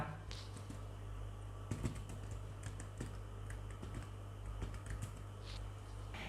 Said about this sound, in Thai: นี่เราสามารถพิมพ์จากตรงนี้ได้เลยนะครับ